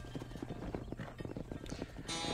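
Horse hooves clip-clop in a steady trotting rhythm in the Red Dead Redemption video game, close and fairly loud, with a brief brighter noise near the end.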